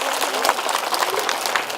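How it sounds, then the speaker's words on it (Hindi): A large crowd at a political rally breaks into loud, sustained applause, dense overlapping clapping that fills the space evenly, with some voices mixed into the noise. "एक बार जोरदार तालियां हो जाए आप सबके इंतजार के लिए।"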